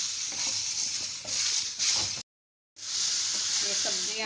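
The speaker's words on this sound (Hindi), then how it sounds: "2 मिनट तक रोस्ट करेंगे।" Vegetables with salt roast and sizzle in a pan over a gas stove, a steady loud hiss with scraping stirs, broken by a short silent gap before the sizzle resumes.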